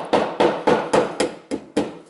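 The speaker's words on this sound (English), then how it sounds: "then I take my hammer, and I carefully hammer that" Seven sharp, evenly spaced hammer taps on a drill bit stuck in a hole of an engine piston, each a crisp metallic strike with a short decay, close and loud with no talk.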